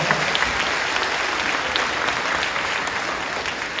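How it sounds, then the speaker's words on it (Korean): Church congregation applauding in a large hall, a continuous, dense wash of clapping that stays loud and even throughout. "박수 한번 해주세요"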